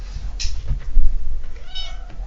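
A house cat gives one short, close meow and then a second, drawn-out one against low room rumble.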